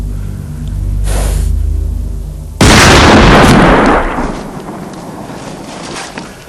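A single sharp, loud Desert Eagle pistol shot cracks out near the middle, fired at a cow, following a low rumbling buildup and trailing into a long, fading echo.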